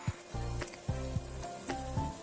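Sliced cabbage, about 200 grams, frying in sauce in a pan, a quiet steady sizzle broken by soft rhythmic stirring scrapes and pulses, close up with no talking.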